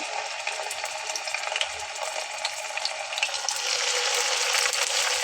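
Chicken pieces fry in hot oil in a heavy wok over lowered heat, making a steady, close sizzling hiss that swells a little louder near the end.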